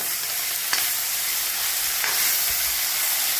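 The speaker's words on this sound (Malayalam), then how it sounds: "ക്യാരറ്റും വെള്ളരിയും പച്ചമുളക് കരിവേപ്പില അതും കൂടെ ഇട്ട് കൊടുത്തു" Carrot, cucumber, green chili and curry leaves stir-fried in a mustard-seed tempering for a Kerala upperi, a loud, steady, hissing sizzle with two brief scraping strokes as the vegetables are turned.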